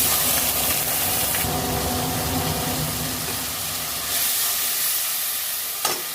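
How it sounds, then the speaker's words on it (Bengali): Tomato paste frying in hot oil with a bay leaf and cardamom pods, giving a steady, loud, close sizzle and hiss that eases a little near the end. "টমেটোটা একটু ভেজে নেবো"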